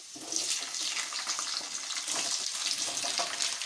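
Ivy gourd pieces hit hot oil with golden-fried onions, giving a steady, hissing sizzle with crackling bursts, moderately close and unaccompanied by speech.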